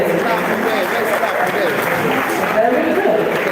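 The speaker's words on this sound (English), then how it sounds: "Well, let's be clapping along today." Audience applause at an honoree event, a dense steady wash of clapping from a crowd held at an even, fairly loud level throughout.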